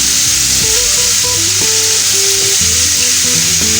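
Cauliflower pieces fry on a hot tawa with a loud, dense, continuous sizzle close by, with music running underneath and no talking.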